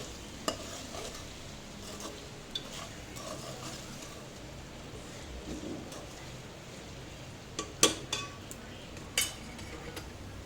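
Mutton pieces coated with turmeric and salt are stirred in a pan, with a soft scraping and sizzling background and a few sharper clinks of the spoon against the metal toward the end, fairly quiet and without talk.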